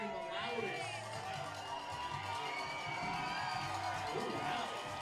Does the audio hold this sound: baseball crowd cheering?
yes